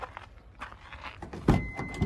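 A car's sliding side door is opened at an outdoor car market, giving a brief rolling rattle and then a solid thunk as it reaches the end of its travel.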